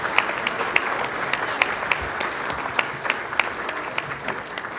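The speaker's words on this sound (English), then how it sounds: "please provide one more round of applause for the winning competitors and all of the teams that" Applause from an event audience for the winning competitors and participating teams, dense continuous clapping with scattered sharper claps standing out, filling the room at an even level throughout.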